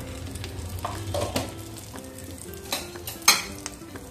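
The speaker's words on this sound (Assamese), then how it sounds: "তেজপাত দালচেনি লং ইলাচি 3টা" Whole bay leaf, cinnamon, cloves and three cardamom pods fry in oil in a pan, giving a low steady sizzle with light stirring scrapes and a sharp utensil clink near the end.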